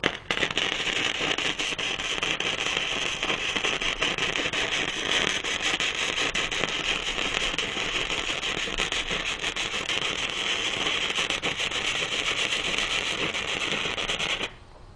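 Lap joint being welded with a Reboot 1600 welder in a garage, a dense, steady crackling sizzle of the arc running loud and unbroken for about fourteen seconds before cutting off abruptly.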